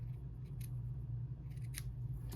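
Scissors make a couple of sharp, close snips during junk journal crafting with Reader's Digest condensed book covers, set over a low steady hum.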